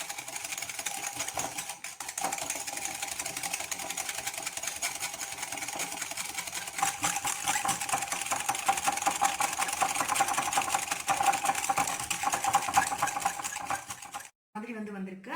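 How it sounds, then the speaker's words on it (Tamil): A dalgona coffee mixture is whisked fast by hand, a steady dense rattle and scraping from the whisk against the bowl. It goes on for about fourteen seconds, then stops, followed by a brief voice. "நான் இன்னைக்கு விஸ்க் வச்சு தான் பண்ணுறேன்."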